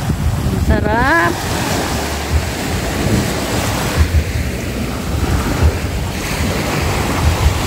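Ocean surf and gusty wind at Sual white sand beach, a steady loud wash of waves with wind buffeting the microphone throughout, with a brief whistle-like warble near the start.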